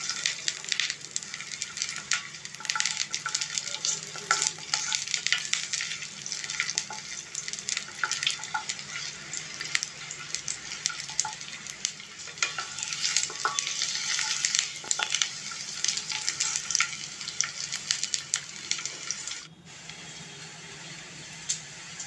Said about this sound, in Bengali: এরপর 10-12 কোয়া রসুন কুচি আর 3টা কাঁচা লঙ্কা কুচিকে দিয়ে দিয়েছি, দিয়ে আমি ভালো করে ভেজে নেব একটু